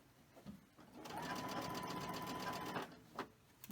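A sewing machine runs in a short, steady burst of close, even stitching as it pulls brown quilting fabric through along a quarter-inch edge seam, starting and stopping cleanly with no talking.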